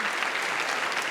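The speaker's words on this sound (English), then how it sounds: "And please give them a round of applause." A brief burst of dense, steady applause from a graduation crowd at a university ceremony, graduates clapping for family and friends, filling the hall evenly with no voices standing out.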